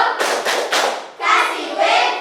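Elementary schoolchildren in a classroom perform the "tepuk wow" clapping chant, with loud bursts of group clapping followed by children's voices chanting together, close and energetic.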